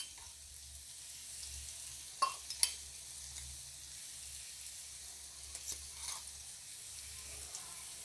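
Homemade pickle masala for a carrot, radish and chili pickle is stirred in a pan on the stove, giving a faint low sizzle with a few sharp spoon scrapes and clicks at irregular moments.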